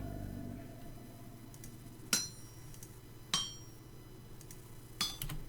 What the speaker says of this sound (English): We're going to hammer that out.